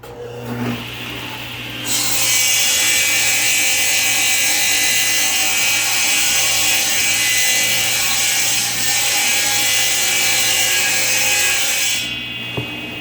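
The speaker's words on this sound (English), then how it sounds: "I'm going to go ahead and run these through, and then I'll just keep bringing that blade up maximum of a 1/16 of an inch every time." Wood pieces for a custom frame are run through a table saw with the blade raised a small step. After a brief start, a loud, sustained whining cut lasts about ten seconds and then drops away.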